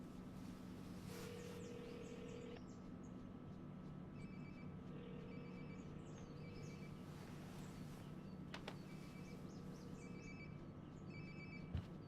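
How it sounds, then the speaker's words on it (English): A phone ringing nearby in the video game Life is Strange: Before the Storm, repeated faint electronic ring bursts in a regular pattern over quiet room ambience and soft footsteps. "Sounds like my phone is definitely nearby."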